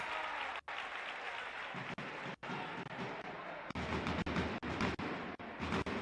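Crowd at a EuroLeague Women basketball game between Perfumerias Avenida and UMMC Ekaterinburg giving ironic applause: faint, sustained clapping from a distance, with a few brief dips.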